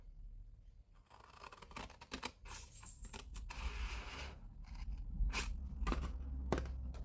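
Scissors cut along a paper score line for a star advent calendar, a series of close, crisp snips and rustles coming in irregular bursts, quiet overall and free of talk.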